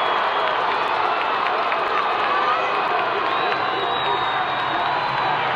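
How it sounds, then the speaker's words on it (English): Football crowds at a Massillon Tigers vs Canton McKinley Bulldogs high school game roar continuously, a dense wall of cheering and shouting with whistles and whoops rising through it. "Both crowds are going insane."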